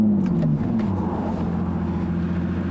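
An Aston Martin V12 Vantage S, a paddle-shift car adapted with hand controls for reduced mobility, fires up its V12 with a brief rising whirr and catch, then settles into a deep, steady idle rumble.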